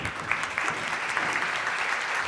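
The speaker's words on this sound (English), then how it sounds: "would you please stand up and give them a round of applause?" An audience gives a steady round of applause for presenters from Austria at a welcome session, dense, continuous clapping from a crowd throughout, with no one talking over it.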